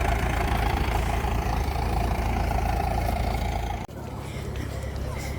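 A heavy tractor engine idles with a steady low rumble and drone, close by on the open sands of Morecambe Bay; it drops briefly partway through, then continues.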